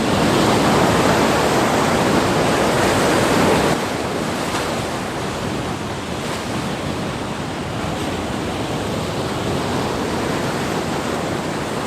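Pacific Ocean surf at Katsurahama beach in Kochi, a loud, continuous wash of breaking waves with a heavier surge in the first few seconds, then a steady roar mixed with wind.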